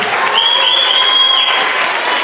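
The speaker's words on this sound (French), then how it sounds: "Applaudissez au moins, allez." Steady audience applause for a candidate at a Miss Montmagny pageant held in Kabyle dresses, dense continuous clapping from a crowd with a faint whistle-like tone riding over it.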